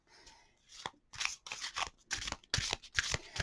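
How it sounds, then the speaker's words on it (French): A deck of Lenormand oracle cards is shuffled by hand in a series of quick, papery riffles and slaps, in bursts of several close strokes with short pauses between. "d'habitude, moi, je vais battre, les cartes, assez longtemps"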